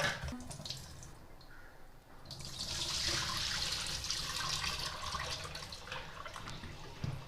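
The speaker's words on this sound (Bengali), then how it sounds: "ধুয়ে আমরা জলটাকে ফেলে দেবো। 2-3 বার একটু ধুয়ে নেবেন পরিষ্কার করে, জলটা ফেলে দেবো" Taro stolons being washed in a bowl of water, a continuous close splashing and sloshing of water with light drips, steady throughout and no talk.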